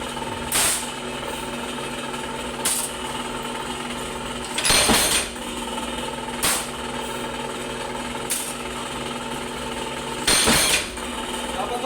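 A power press runs in a workplace, thudding with a sharp stroke about every two seconds over a steady mechanical hum, with no voices over it.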